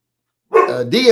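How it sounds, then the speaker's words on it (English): A dog barks twice in quick succession, loud and close, after a half-second of silence, with the barks sounding strained and somewhat whiny. "Django, stop laying there barking"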